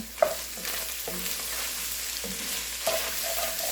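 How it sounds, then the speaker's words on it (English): A spoon stirs lasagna soup with tomato sauce in a pot on the stove, scraping the bottom with a few distinct scrapes over a steady low simmering sizzle, close and moderately loud with no talking. "I'm going to stir this up."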